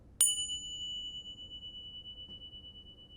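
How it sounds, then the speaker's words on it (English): A single meditation chime struck once during a quiet yoga session, its clear bright tone ringing out and slowly fading over several seconds in a silent room. "just listen to the sound of the chime"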